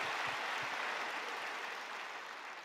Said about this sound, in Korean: Let's give Dr. Lee a big hand.